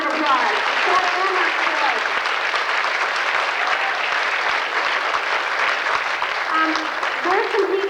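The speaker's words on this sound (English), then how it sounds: "Give him a big round of applause." At an event celebrating the saving and reopening of West Seattle's Admiral Theater, an audience gives a steady round of applause lasting several seconds, with voices talking faintly through it.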